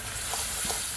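Amra chutney with green chillies bubbles and hisses in a pan while being stirred, a brief, steady soft sizzle without distinct strokes and with no talking.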